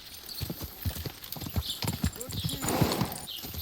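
Horse hooves clip-clop in rapid, steady steps in the medieval role-playing video game Kingdom Come: Deliverance II, close and clear, with an occasional snort or whinny mixed in.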